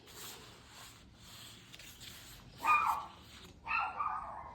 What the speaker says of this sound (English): Excuse my dog. He sees something moving outside.